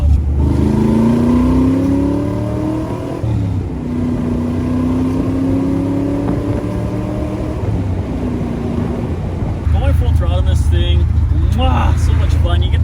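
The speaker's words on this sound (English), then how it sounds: "You get the exhaust right here blaring into your ears" An AC Cobra's engine and exhaust drone loudly and steadily while driving, pitch sliding as it pulls through gears, with wind rush throughout and a rougher burst near the end.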